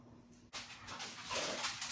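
Two pet dogs whimpering and yipping softly close by in a home kitchen, a few faint, brief whines over low room noise.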